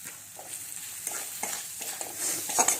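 Ground turmeric and cumin fry in oil in a pan, making a soft continuous sizzle with several rhythmic scraping strokes as a spoon stirs the spices.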